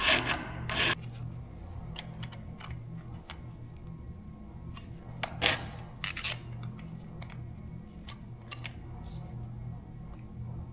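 A Stihl MS 462 chainsaw chain is hand filed with a nearly worn-down file, giving sparse, sharp rasping strokes at irregular intervals over a low steady hum.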